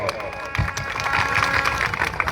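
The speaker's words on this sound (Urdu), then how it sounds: "ان بچیوں اور بچوں کے لیے زوردار تالیاں بجائیں" Audience at an event applauding a group of boy and girl scouts, a broad wash of clapping and crowd noise that swells and stays dense across the moment.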